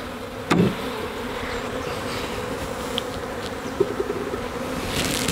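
Honeybees hum steadily around a hive frame outdoors, a soft continuous buzz with a couple of faint knocks and no voices.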